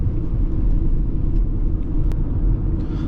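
From inside a Ford Mustang Mach-E Select 2WD electric car, a steady low road and tire rumble drones throughout, loud and close, with no engine note and no talking.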